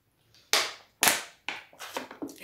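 A small plastic drink bottle is opened and handled, giving a few sharp, close cracks and snaps of the cap followed by quicker, softer plastic crinkles, with no talk.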